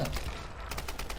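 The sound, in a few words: gunfire in Tomb Raider video game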